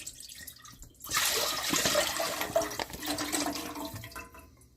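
Liquid is poured out while cooking chicken, a splashing, gurgling rush that starts suddenly after a quiet moment, runs steadily for a few seconds near the listener, then tapers off.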